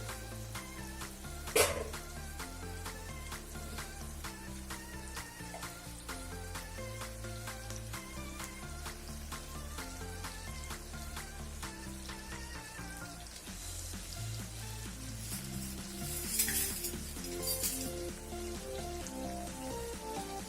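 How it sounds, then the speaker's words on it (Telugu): Dried fish frying briefly in oil, a steady close sizzle and crackle that runs throughout, with a couple of louder pops and hisses. "కొంచెం ఒక 2 సెకండ్ల నూనెలో వేయించి"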